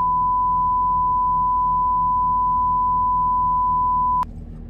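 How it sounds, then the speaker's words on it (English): Long continuous censor beep, a loud pure tone held steady for about four seconds over low background noise, cutting off with a click into quiet outdoor hum. "So I'm gonna put in a long beep for cussing."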